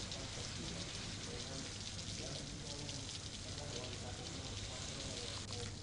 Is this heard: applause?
no